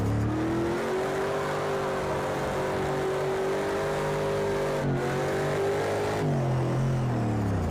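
Car engine in a racing game mod revs loudly and steadily, a sustained droning tone that dips and climbs again near the end, with no voices over it.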